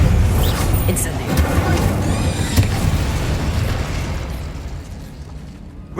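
Spell explosions from the video game Hogwarts Legacy: a loud opening burst and blast that trails into a long rumbling decay with scattered crackles, with a brief sharp hit midway.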